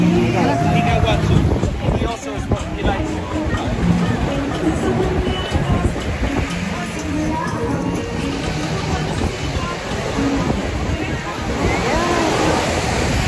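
Waves wash continuously onto a busy Dominican Republic beach in a loud, dense roar of surf and sloshing water, with people's voices mixed in throughout.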